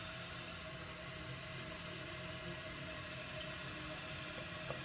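A 2008 Kohler Kelston toilet tank refills with water, a steady, even hiss and rush of water running into the tank, constant and unbroken throughout with no voices.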